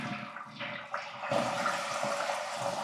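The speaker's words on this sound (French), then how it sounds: "j'appuie sur ce bouton pour tirer la chasse" A toilet flushes nearby with a rushing gush of water that swells after a short hiss and keeps draining steadily to the end.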